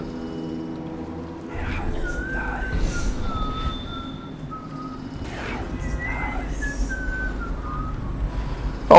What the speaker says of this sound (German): Hör auf zu pfeifen, das macht mich nervös.